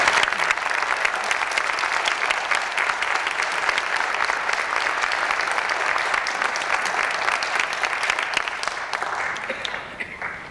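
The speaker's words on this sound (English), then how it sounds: "Let's give them a big round of applause" Audience at a piano recital applauding performers, a loud, sustained roar of many hands clapping that continues steadily and begins to thin near the end.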